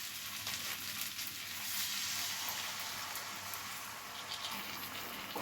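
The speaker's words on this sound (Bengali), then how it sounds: "এবার আমি এর সাথে জল অ্যাড করব" Boneless chicken gravy in a pan, with water just added to the well-fried meat, gives off a steady, quiet sizzle and hiss that holds evenly throughout without a break.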